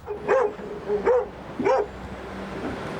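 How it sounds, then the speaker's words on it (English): Excitable dogs barking inside a car, three separate barks spaced about a second apart, close and fairly loud, followed by a quieter stretch of cabin background. "a couple of excitable dogs"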